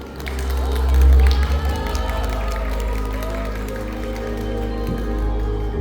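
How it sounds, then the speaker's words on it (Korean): A crowd at a live talk and music event cheers and claps to welcome a rapper on stage, a broad wash of applause with a low rumbling boom near the start, continuing steadily at moderate volume. "큰 박수로 맞이해 주시기 바랍니다"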